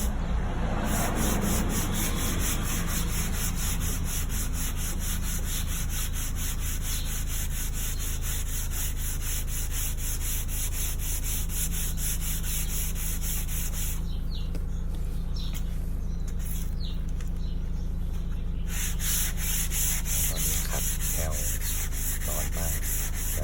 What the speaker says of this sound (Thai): มือขวาก็มาสลับขัดมือซ้ายนะครับ